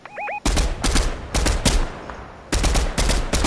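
MK rifle fire in Fortnite comes in sharp, loud bursts of several quick shots each, with gaps of quiet between the volleys, opening after a brief electronic chirp.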